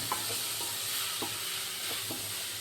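A turmeric-tinted mixture for cutlet-style egg bajji sizzles steadily in a pan while a utensil scrapes through it in regular strokes roughly every half second, close and clear, with no voices.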